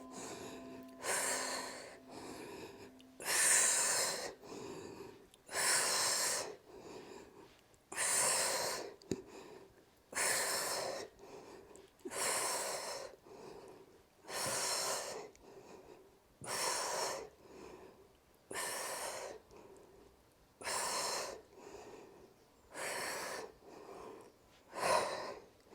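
Heavy, rhythmic breathing during a yoga workout, loud bursts of exhaled and inhaled air repeating about every second or two, close and without talk.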